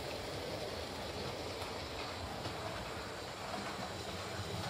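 Model C class locomotive running along a layout track, giving a steady, continuous rolling rumble with a faint mechanical hum throughout and no talk.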